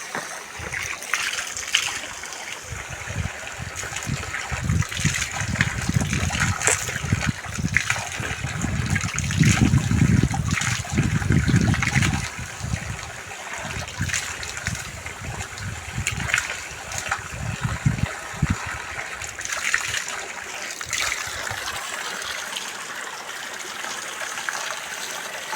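Water tumbling and splashing from a small waterfall in an Odisha village, a continuous rushing flow that swells louder midway and then eases, heard alone without talk.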